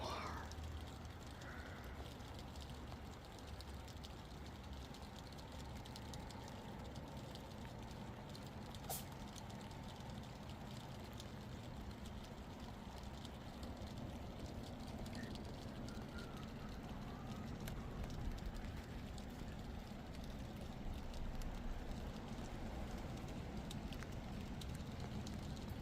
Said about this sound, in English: here you can hear the noise of the rain. The rain on the tonneau cover.